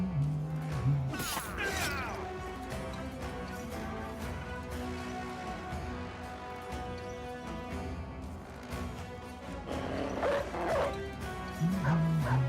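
Dog barks and yips in the medieval mercenary game Battle Brothers, several bursts near the start and again toward the end over a steady bed of game music and battle noise.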